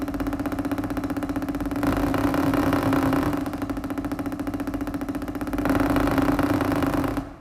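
A fast, aggressive multiple-bounce roll on a drum, a dense buzzing roll with two louder surges that swell and fade back.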